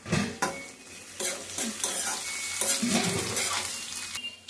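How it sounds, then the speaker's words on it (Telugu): Curry leaves crackle and fry in hot oil with other ingredients as a spoon stirs and scrapes against the pan, giving intermittent metallic clinks over a steady close sizzle; no one speaks. "ఇవి వేగుతూ ఉండగా కరివేపాకు వేసుకుందాం ఫ్రెండ్స్."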